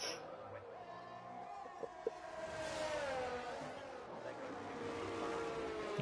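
F1 race cars in a sim racing video game, a sprint race at the Netherlands round, with a steady engine whine that slowly rises and falls in pitch. A few brief clicks cut through and no one speaks.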